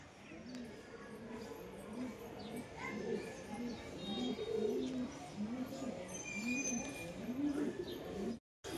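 Pigeons brought home from a market cooing in a cage nearby, repeated low rolling coos in a steady rhythm over a background hum, with a few faint chirps and a brief dropout near the end.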